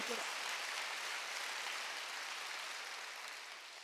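A church congregation claps together during a Wednesday worship service, a dense, even wash of applause that stays steady and slowly fades toward the end.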